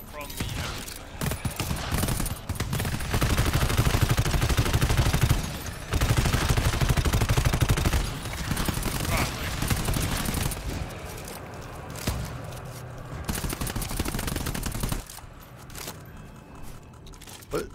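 Shotgun blasts in the video game GTFO, dense repeated loud gunfire with other weapons firing continuously, players talking over the din.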